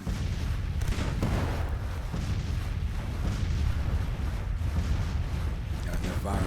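Civil War artillery booms and rumbles continuously in the strategy video game Grand Tactician: The Civil War, a dense, steady barrage of cannon fire heard as a loud battle wash.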